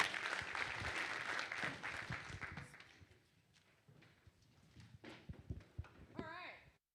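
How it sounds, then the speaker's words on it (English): A conference audience at a programming event in Wellington, New Zealand applauds, a dense burst of clapping that thins out and fades after a few seconds, with scattered claps, murmurs and a brief high squeal near the end. "let's give them another round of applause"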